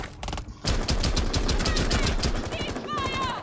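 Rapid gunfire from a video game, repeated headshots fired in quick bursts, loud and close, with a brief pause and game effects near the end.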